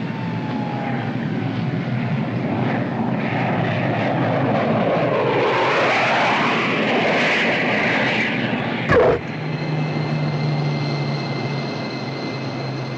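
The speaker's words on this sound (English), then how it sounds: "These jets come aboard pretty hot." A jet aircraft lands aboard an aircraft carrier, in a 1952 wartime film setting: a steady, loud engine roar that swells in the middle, a brief sharp break near the end, then a lower sustained hum with a faint whine.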